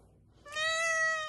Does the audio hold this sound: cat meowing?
yes